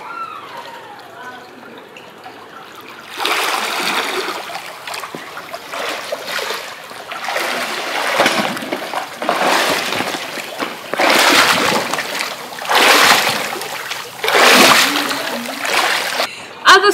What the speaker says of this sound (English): So let's do it and then let's swim if you want to see how I swim.